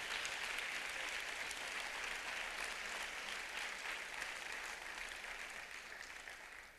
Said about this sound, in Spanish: Den una ofrenda de palmas al Señor